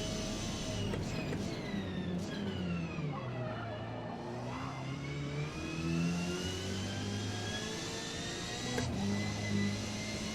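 Hyundai Velos touring car in the Forza Motorsport racing game, its engine loud and close, whining up through the gears with sharp shifts and rising, falling pitch sweeps across the whole stretch.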